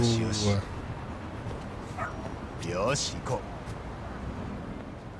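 A dog in the video game Lost Judgment gives a few short barks and yips near the start, then a couple more around the middle, over soft game ambience.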